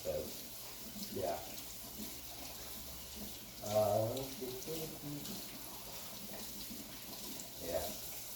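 Water runs from a tap over hands being washed at a sink, a soft, steady splashing under intermittent talk from a nearby voice.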